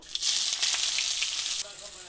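Chopped onions hit hot oil in a pan while cooking chicken, giving a loud, steady close-up sizzle of frying that holds across the moment and eases slightly near the end.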